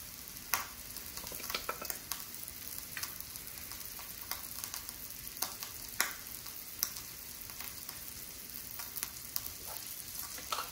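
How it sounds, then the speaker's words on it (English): Sausage browning in a pan on a stovetop, a constant fine sizzle with scattered pops and crackles, close and steady throughout. "But first we gotta get some sausage browned up on the stove."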